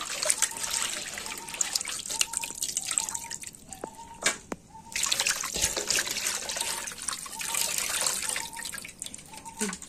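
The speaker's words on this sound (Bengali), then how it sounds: "এটাকে সুন্দর করে আবার পানি দিয়ে পরিষ্কার করে নিতে হবে।" Raw chicken being rinsed under running water, with steady trickling and dripping from a tap into a sink, close and moderately loud, with a brief pause midway before the flow resumes.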